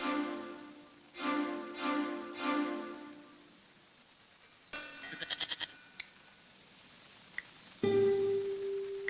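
Goat bleats from the Broken Sword 5: The Serpent's Curse video game, four short harmonic bleats in a steady rhythm early on, followed by clattering game sound effects and a sustained tone near the end.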